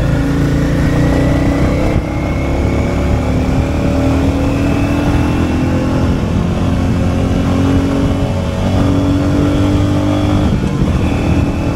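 A new Royal Enfield Classic 350 BS7 E20 rides through heavy traffic, its engine thumping steadily under a loud, constant wash of surrounding vehicle and road noise for the whole stretch.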